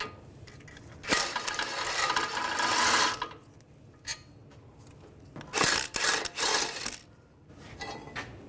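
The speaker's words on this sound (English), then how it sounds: "Using a 21mm socket, we're going to take these two bolts out." A ratchet with a 21mm socket works loose the brake caliper bracket bolts on a Volkswagen Tiguan, giving close, scraping bursts of ratcheting and metallic rubbing in separate runs, with no talk.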